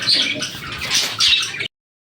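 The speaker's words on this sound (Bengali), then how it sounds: "এগুলো ঘরের পায়রা আমার" Domestic pigeons kept at home call with bright, fluttering bird sounds that start in a burst, dip briefly, and swell again before stopping abruptly.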